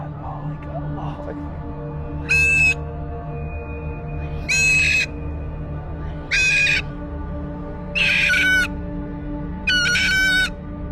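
A parrot gives five loud, harsh squawks at steady intervals, each about half a second long, over a constant low background hum with some faint distant voices.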